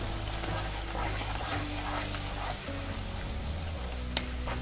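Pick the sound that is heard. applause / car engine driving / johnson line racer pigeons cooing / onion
onion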